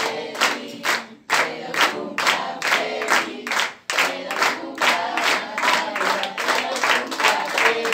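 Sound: applause at a fifteenth birthday party

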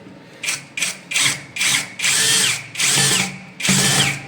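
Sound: tightening bolts of wall-hung toilet

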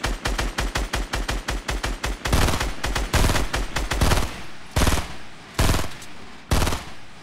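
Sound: gunfire in a video game

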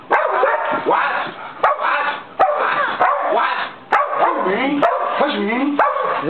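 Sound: dogs fighting and barking

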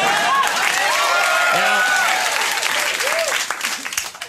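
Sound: studio audience applause

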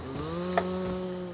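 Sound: vacuum cleaner running

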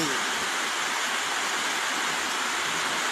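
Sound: rain

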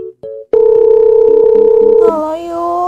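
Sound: telephone dial tone

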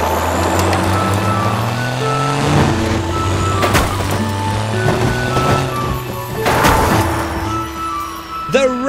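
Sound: red monster truck engine

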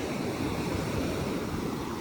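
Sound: sea waves on the shore

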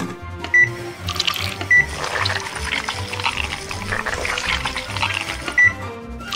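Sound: pouring blended ice cream mix into a popsicle mold

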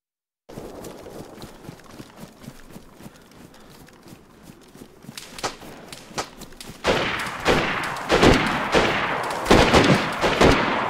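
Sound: gunfire in the video game DayZ

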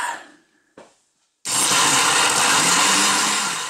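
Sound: blender blending frozen mango margarita mix

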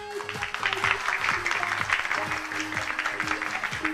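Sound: audience applause voting for the best sentence

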